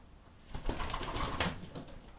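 Soft cooing from a pigeon of the Vandermerve line, one of a fancier's birds, with a few low, murmuring calls over roughly two seconds, fairly close and moderately quiet against a faint background.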